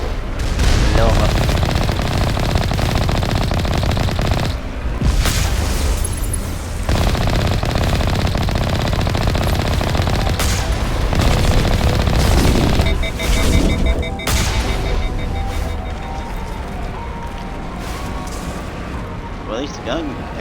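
Heavy, sustained gunfire in Mass Effect, dense automatic bursts with booming impacts continuing almost without pause, with a voice talking over the shooting.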